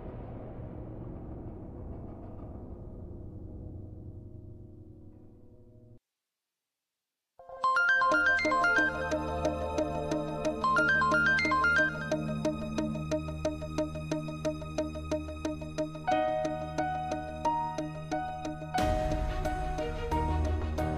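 A mobile phone ringtone plays loudly in a home in a Marathi TV drama after a brief silence, a repeating melodic tune with steady rhythmic pulses and no talk over it.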